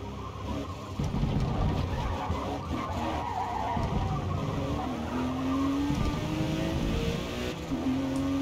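A Ford GT race car in Forza Motorsport roars steadily at close range, tires skidding and squealing through corners, engine tone rising and shifting throughout.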